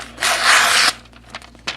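A Victorinox Outrider pocket knife blade slicing through a sheet of paper gives one loud, sustained raspy cut of under a second, followed by a few faint scrapes and rustles.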